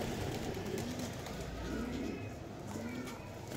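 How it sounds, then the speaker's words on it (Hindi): A pink-dyed pigeon with a slightly bad eye coos softly several times while being caught by hand, the low murmuring calls close and repeated over steady background noise. "तो ये कबूतर है जी, पिंक कलर का रंग लगा हुआ है इसका"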